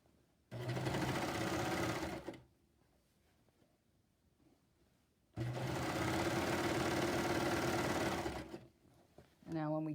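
A sewing machine stitches a shirt seam in two bursts of steady, close mechanical whirring, separated by a quiet pause.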